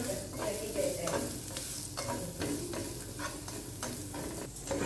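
Garlic fries in a pan, a continuous close sizzle and crackle with repeated scraping and stirring strokes of a utensil at an irregular rhythm throughout, with no talking.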